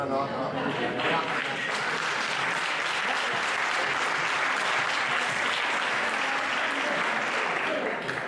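A crowd at an electoral rally of the People's Party in Camas applauds in a dense, sustained wash of clapping that holds steady and loud throughout.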